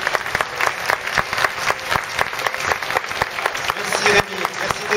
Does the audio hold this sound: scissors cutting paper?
no